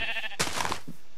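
A sheep bleats once, loud and close, in the video game Minecraft, a short wavering cry that cuts in over soft background tones and fades into a brief low trailing note.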